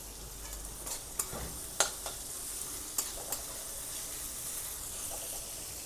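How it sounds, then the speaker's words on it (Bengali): A handful of onions sizzles softly in a pan for a curry, a low steady hiss with a few sharp clicks and taps of a utensil scattered through, close but faint. "দিয়ে পেঁয়াজটাকে একটু ভাজবো"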